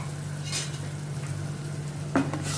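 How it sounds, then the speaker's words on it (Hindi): Tomato paste and grated green chilli being stirred into onions in a pan for black dal, a soft steady sizzle with a low hum and scraping strokes, one sharper clink near the end. "टमाटर को भी मैं अच्छी तरह अच्छे प्याज के साथ मिक्स करती हूँ"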